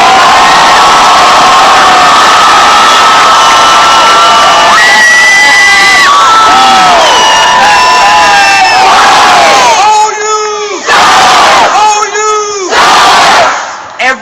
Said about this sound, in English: One more loud cheer.